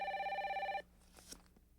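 A holster phone rings with a bright electronic trilling tone for just under a second, then cuts off, leaving faint quiet rustling.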